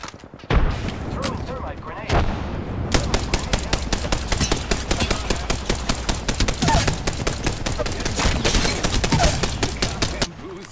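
Rapid bursts of gunfire from enemies in a shooter video game crackle close and loud in dense, repeated volleys, with brief pauses between bursts and a voice speaking underneath.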